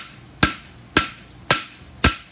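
Four evenly spaced, sharp hammer blows ring out on heated metal being flattened during work on a diamond toe hind horseshoe, each strike loud and close with a brief decay.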